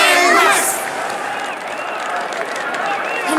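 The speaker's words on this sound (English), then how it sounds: "Let us gift our applause and cheers to these brave and dauntless nameless." A video game crowd cheers and applauds loudly for the Nameless, a steady roar of voices and clapping with chanting calls rising over it, close and continuous throughout.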